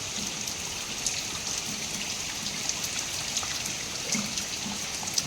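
Heavy unseasonal rain falls on a village, a dense, even patter of drops hitting surfaces with scattered sharper taps, steady and moderately loud, with no voices.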